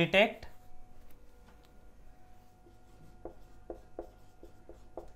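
Someone writes on a classroom board during a lesson, producing a handful of short, faint scratchy strokes in an irregular rhythm against a quiet background.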